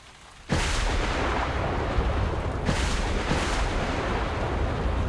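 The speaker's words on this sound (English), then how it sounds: "a loud thunder strike." A loud thunder strike in a video game session, a sudden heavy crash that hits at once and rolls on as a dense, sustained rumble with a couple of further surges.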